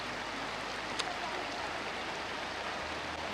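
Steady rain pours down in a rural village near the Vietnamese border, a dense even hiss of falling water heard close, with a brief sharp tap partway through.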